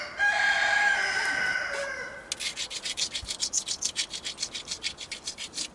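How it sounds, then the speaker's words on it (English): Grinding the edge of a flint flake with an abrasive, heard as a steady run of rhythmic scraping strokes, close and fairly loud, after a brief harsh rubbing sound at the start. "I'm going to grind again"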